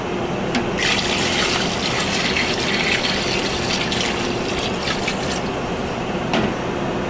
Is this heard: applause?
no